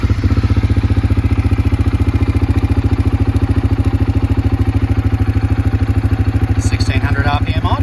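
A 2022 CFMoto CForce400 ATV engine idling at 1600 RPM, a loud, close, steady rapid putter with even mechanical pulses and a low throb throughout; a brief clatter of handling noise near the end.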